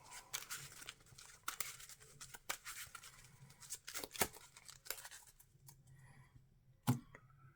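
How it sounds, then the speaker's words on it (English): A deck of game cards for a superhero card game is shuffled quietly, giving soft, quick riffling snaps and papery flutters in short bursts, with faint handling sounds between them. "Shuffle those in."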